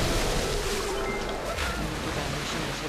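Rushing river water in the video game Ice Age 2, a steady broadband wash of flowing water that fills the whole clip at moderate loudness, with no talking.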